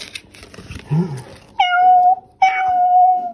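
A voice imitates kittens meowing, giving two drawn-out, high meows after a brief spoken murmur, close and fairly loud.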